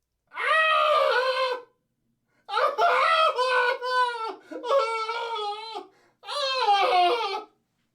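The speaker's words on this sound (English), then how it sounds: "A succession of loud and shrill screams, bursting suddenly from the throat of the chained form" Loud, shrill screams burst from a chained figure in a dark recess: four long, wailing, sobbing cries separated by brief silences, close and piercing.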